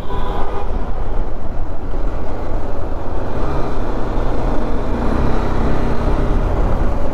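Traffic on a winding hill road near Ooty, with a car approaching. Loud, continuous engine and road rumble sits close by with wind noise, swelling slightly and without talk.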